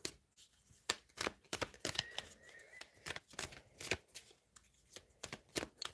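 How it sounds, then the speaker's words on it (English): Tarot cards riffle and snap in a quick run of sharp shuffling bursts, close and fairly quiet, with no voice over them. "Let's get 3 cards for the outcome."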